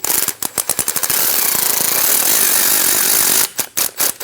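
An impact power tool snugs down the bolts on a fuel tank sending unit flange of a 2011 Dodge Durango 5.7L V8: rapid loud hammering bursts, a sustained whirring run, then more short bursts, close up.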